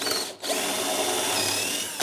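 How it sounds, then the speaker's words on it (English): A power drill bores through the wooden apron of a workbench, a loud steady whine with a brief pause near the start, then continuous drilling close by. "I'm going to drill through the apron only"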